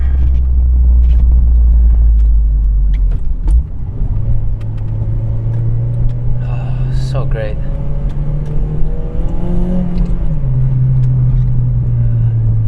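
A Honda Civic Type R FD2 pulls hard out of a corner on its limited-slip differential, with a steady loud low engine drone that climbs in pitch partway through, while someone talks over it.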